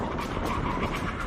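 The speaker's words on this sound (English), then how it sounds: "Brakes on, the Porsche remains perfectly stable as it sheds speed." Hard braking from 100 mph by a Porsche 911 Turbo S, Lamborghini Aventador SVJ and McLaren 720S, a steady loud roar of tyre and road noise with a faint squeal, no voices.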